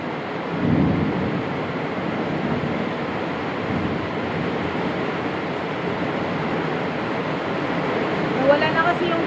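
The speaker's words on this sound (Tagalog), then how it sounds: "Sobrang lakas ng ulan dito, parang may bagyo na naman." Heavy rain in a typhoon-like storm, a steady dense roar of downpour throughout with a low thunder rumble near the start and a brief voice later.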